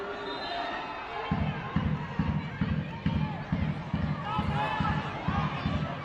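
Home supporters at Broadwood stadium during a women's Champions League qualifying football match, Slavia Praha against Rangers, keep up a steady rhythmic clapping or drumbeat over a broad crowd murmur, with a commentator talking over it.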